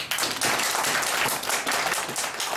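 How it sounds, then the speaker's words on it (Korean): An audience at a Korean apartment reconstruction association's founding general meeting claps steadily. The applause is dense, fairly close and continuous, with no talk over it. "자, 이상에 대해서 모두 동의하시면 박수로 동의해 주시기 바랍니다."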